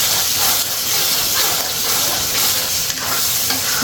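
Potatoes fry in a hot tempering for a potato curry, with a constant close sizzle and bursts of stirring and scraping in the pan throughout.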